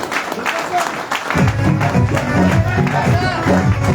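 Audience clapping at a gathering promoting a digital app, broken and uneven at first, then swelling under a music track and a voice that carries on over the applause.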